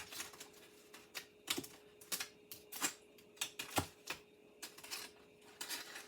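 Bacon being sliced with a knife on a board at home: a quiet, irregular series of short crisp cuts and taps, about a dozen strokes close by, with no talking.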